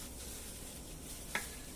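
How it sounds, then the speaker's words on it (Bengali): Chicken pakora frying in hot oil, a steady, faint, close sizzle with one brief clink partway through. "এই পকোড়া ভাজা হচ্ছে,"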